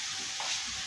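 Raw chicken pieces for kebabs sizzle steadily in a hot pan, a constant close frying hiss that stays even throughout with no talk over it.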